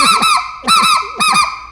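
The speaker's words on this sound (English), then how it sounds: "You need to learn how to run a speckled-bellied goose call." A speckled-bellied goose call blown in three quick double-note bursts, each a bright, harmonically rich honking yelp, loud and close with brief pauses between, no talking.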